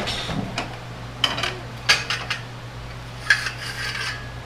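A wrench strains against a stuck nut on the blade spindle of a 2011 Troy-Bilt Bronco riding mower, giving a few sharp metallic clicks and scraping rasps over a steady low hum, fairly close.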